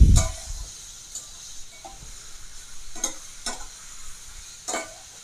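Food frying in a pan for a savory breakfast dish is stirred, a soft steady sizzle with a few brief scraping strokes spaced out across the moment, nearby and moderate in volume, with no one talking.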